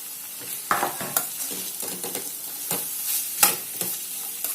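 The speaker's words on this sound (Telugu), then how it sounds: "ఇవి కొంచెము వేగిన తర్వాత అప్పుడు మనం క్యాబేజీ వేసుకుందాం" Capsicum and carrot fry and sizzle in a pan while a spoon stirs them, giving a steady hiss broken by repeated sharp scraping clinks of utensil against the pan, close and fairly loud, with no voices.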